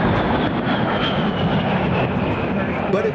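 An A-10 Thunderbolt 'Tank Buster' jet flying at an air show, making a steady, loud broadband roar that lasts the whole time, with a voice speaking over it.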